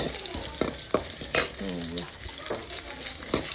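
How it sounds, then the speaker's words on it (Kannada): Onions sizzle in hot oil for a chicken gravy while a spoon stirs and scrapes the pan in short repeated strokes, close and fairly loud, with a brief voice-like tone partway through. "ಸೊ ಈರುಳ್ಳಿ ಸ್ವಲ್ಪ ಫ್ರೈ ಆಗಲಿ."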